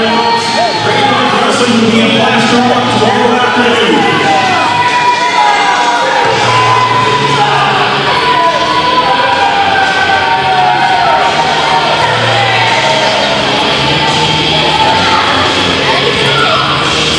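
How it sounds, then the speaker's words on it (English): A lively wrestling crowd at a Great North Wrestling show voices its displeasure after Hannibal's win, steady loud cheering, yelling and booing throughout, with a commentator talking over the roar. "This crowd is very lively and they are not happy whatsoever"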